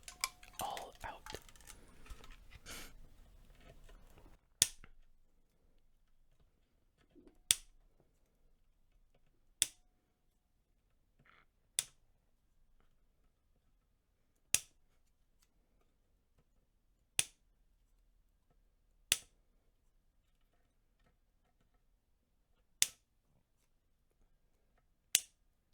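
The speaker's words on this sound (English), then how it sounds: "today I'm just going to use some scissors and cut these all out" Scissors snip through plastic zip ties while a pedalboard is assembled, sharp isolated clicks spaced a few seconds apart in a quiet room, after a stretch of soft rustling and handling.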